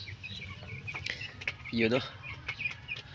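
Rhode Island Red chickens on a farm cluck in soft, scattered bursts at close range, with one louder run of clucks midway, under a quiet voice speaking.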